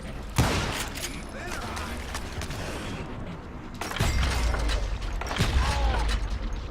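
Rifle fire in the video game Call of Juarez Gunslinger: a few sharp, loud shots and booms spaced apart, with mechanical clicks and a voice talking over the action.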